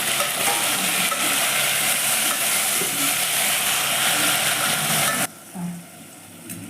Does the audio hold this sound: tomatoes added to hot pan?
yes